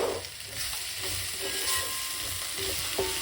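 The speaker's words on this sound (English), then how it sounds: "Boil up the curry." An eggplant curry boils hot in a pot, giving a steady close bubbling sizzle with soft stirring scrapes throughout and no talking.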